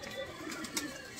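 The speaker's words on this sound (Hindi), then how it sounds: "सारे कबूतर खोल दिए" Pigeons coo softly nearby with low, throaty murmurs, mixed with faint rustling and background noise, and a voice is heard briefly.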